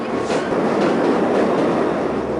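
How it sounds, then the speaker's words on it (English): A subway train rumbles steadily past at close range, a continuous loud roar with rhythmic clacking of wheels over the rails. "Here comes a train right now, as a matter of fact."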